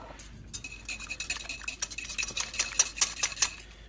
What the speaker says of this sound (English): And then we'll whisk that together.